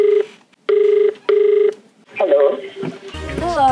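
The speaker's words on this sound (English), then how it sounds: "Dial the number." Telephone keypad dial tones in a call center: three steady beeping tones, then rising ringing and tones blending into a burst of noise, all fairly loud and close.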